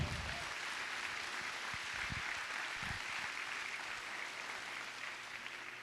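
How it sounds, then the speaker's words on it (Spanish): A church congregation claps loudly during a Spanish-language sermon, a sustained wash of many hands blending into a steady roar, with a few low thumps early on. "Dale un aplauso fuerte al Señor"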